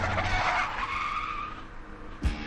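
A car's tires skid and squeal in a long, loud screech that fades over about two seconds, ending with a short thump, with no talking.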